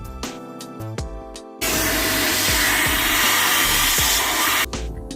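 A vacuum cleaner runs inside a car, a loud steady roaring whoosh held for about three seconds between quieter stretches of background noise.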